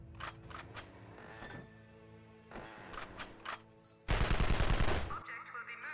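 Gunfire from the Evil Genius video game comes as rapid automatic bursts, then a loud dense volley near the end, with game tones and a brief voice line mixed in.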